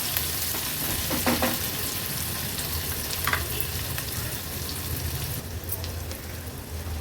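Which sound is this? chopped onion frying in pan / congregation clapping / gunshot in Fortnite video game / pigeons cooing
chopped onion frying in pan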